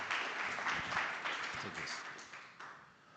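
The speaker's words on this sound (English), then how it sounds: "round of applause for Mark." Conference audience at a Singapore tech event applauds a speaker, moderately loud clapping that gradually tapers off, with a voice speaking faintly over it.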